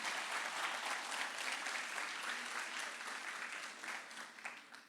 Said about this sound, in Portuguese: Vamos aplaudir esses 3 irmãos.